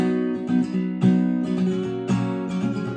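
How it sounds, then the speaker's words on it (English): Acoustic guitar strummed in the style of a song, a handful of bright chord strums in a loose rhythm, close and clear, ringing alone without voice. "the strum version sounds like this"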